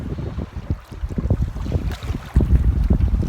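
Strong wind blowing from behind a canoe on a wilderness lake in Temagami, Canada, gusting as loud rumbling buffets on the microphone with water sloshing beneath, no voices.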